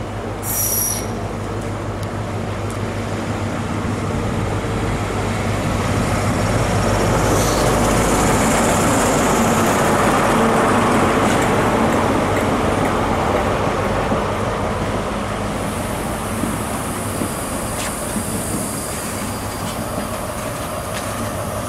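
A train runs along the track with wheels squealing in high, shrill bursts over a constant loud rumble and rattle of rolling carriages, close and continuous.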